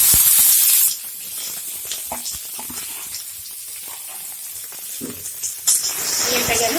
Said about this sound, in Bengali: পেঁয়াজটাকে আমি ভালো করে ভেজে দেবো।